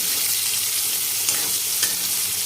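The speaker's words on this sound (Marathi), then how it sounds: "आपण हा एक कांदा कापून घेतलेला आहे मोठा मोठा तो टाकून घेऊ आणि लाल करायचा नाही किंवा सोनेरी करायचा नाही फक्त एखादं मिनिटभर आपल्याला याला परतून घ्यायचं आहे" Chopped onion sautéing in a pan for a wild-greens vegetable dish, giving a loud, continuous close-up sizzle with a couple of faint stirring scrapes, no voices.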